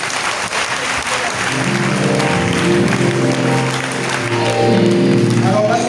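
A church congregation applauds during a sermon on finances, sustained clapping from a crowd that swells and stays loud across the whole stretch, with voices and a tonal hum underneath.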